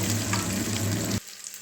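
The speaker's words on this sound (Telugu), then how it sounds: "ఇది టమాటోలో స్కిన్ సపరేట్ అయ్యే వరకు మగ్గాలండి" Steady, close sizzling of tomatoes frying in a hot pan, which cuts off abruptly partway through, leaving quiet background.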